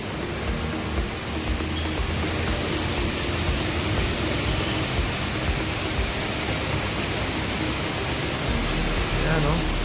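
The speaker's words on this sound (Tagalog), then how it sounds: "Medyo maulan ngayon dito sa Quezon City. Ang lakas ng ulan." Heavy rain pours steadily in Quezon City, a dense and even hiss of downpour that fills the scene from start to finish, loud and close, with no voices.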